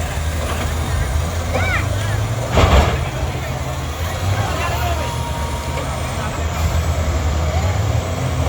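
A school bus engine rumbles at a demolition derby at Buck Motorsports Park, a loud low idle and drone under crowd and announcer chatter, with a brief bump of mechanical noise partway through.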